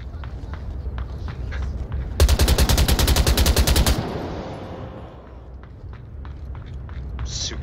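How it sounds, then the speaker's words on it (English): A loud, close burst of rapid machine gun fire in the VR shooter Onward, roughly two seconds of evenly spaced rounds, followed by footsteps and fainter distant shots. "this guy's got a fucking machine gun, too."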